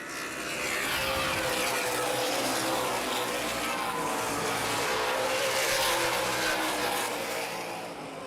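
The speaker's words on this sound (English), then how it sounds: "Brent Jack on the inside of Carlson, down the back straightaway" Outlaw late model race cars roar down the back straightaway at Baer Field Speedway, a loud, continuous engine drone that swells and fades as the pack passes.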